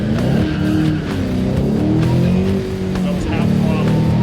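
A 2011 Shelby GT500 fitted with a Whipple supercharger launches hard, its engine roaring loud and close as revs climb in stepped surges with supercharger whine and possible tire squeal, while a person talks underneath.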